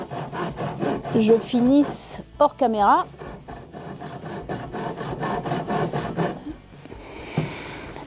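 A hand saw cuts through a piece of driftwood in a steady series of rhythmic rasping strokes, close and clear, with someone speaking briefly before the sawing.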